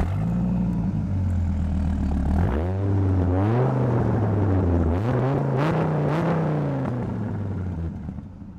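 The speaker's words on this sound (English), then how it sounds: "I'm sure you want to hear what it sounds like." A supercharged 2002 Dodge Viper GTS engine revs and pulls through rising and dropping gears, a loud close rumbling drone with repeated upward sweeps, no talk.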